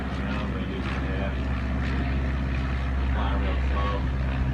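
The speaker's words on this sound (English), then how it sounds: "It's a cool little plane. That looks like almost a military spot plane" A small, slow-flying propeller plane resembling an old military spotter aircraft drones steadily overhead, its low engine hum continuous and fairly distant, with faint voices in the background.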